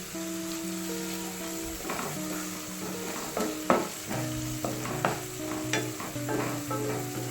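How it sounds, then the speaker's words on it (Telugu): Ginger garlic paste frying in a pan for a tomato egg curry, with a steady close sizzle broken by scraping stir strokes, no talking. "ఇప్పుడు ఈ అల్లం వెల్లుల్లి పేస్ట్ పచ్చి వాసన పోయేంత వరకు మనం ఫ్రై చేసుకోవాలి."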